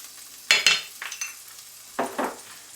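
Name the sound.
chopped onion frying in butter and olive oil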